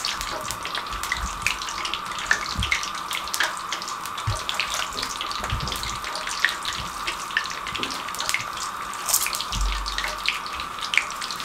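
Water runs steadily into pakora batter in a bowl, a continuous close trickle and splash with a few soft knocks, without any talking.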